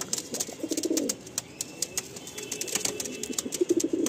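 A champion racing pigeon at a loft coos in low rolling phrases near the start and end while sharp wing flaps and clatters break in repeatedly, close by, with no speech.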